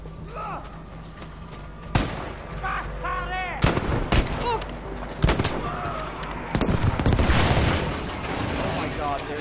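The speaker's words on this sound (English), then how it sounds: "Oh my god, there's explosions everywhere." Rapid gunfire and booming explosions during a Battlefield V Nordlys match, with sharp cracks and bursts of automatic fire, loud and close, clustered near the end while a player talks over them.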